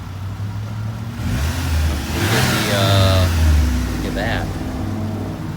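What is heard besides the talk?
2001 Saturn SC2 car engine running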